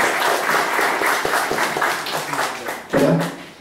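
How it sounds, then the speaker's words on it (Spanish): Conference audience at PyCon Argentina 2016 applauding a speaker, brisk close clapping with audible individual claps that thins out near the end. "les pido un fuerte aplauso para empezar la charla."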